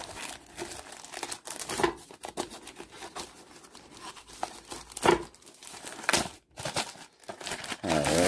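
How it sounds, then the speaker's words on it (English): Plastic bag packaging from a mail delivery being sliced open along its side, giving a close series of crinkling, tearing rustles with sharp bursts and a brief louder rip near the end, no talking. "Let's side cut this one. I'm glad they put it in a plastic bag"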